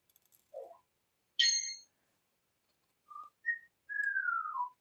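A pet talking bird whistles alone in a quiet room: a few short, separate chirps, then a longer whistle that slides downward at the end, all clear and fairly close.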